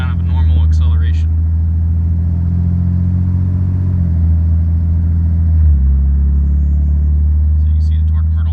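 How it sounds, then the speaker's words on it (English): A vehicle with a 68RFE automatic transmission accelerates normally, its engine a loud, steady low drone that drops in pitch at gear changes around the middle and near the end, with faint chimes or voices at the start and finish. "do a kind of a normal acceleration"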